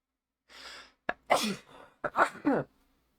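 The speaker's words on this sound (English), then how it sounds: "I had a sudden sneeze there" A woman sneezes once with a brief intake of breath before and a couple of sharp, explosive bursts after; close, loud and alone.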